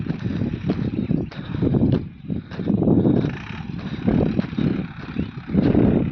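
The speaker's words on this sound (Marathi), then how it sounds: "महिंद्राचा मोठा ट्रॅक्टर आणलाय कोणाच तरी." A large Mahindra tractor ploughing furrows for sugarcane on a farm, its engine giving a loud, continuous low rumble that swells and dips over several seconds, with wind buffeting the microphone.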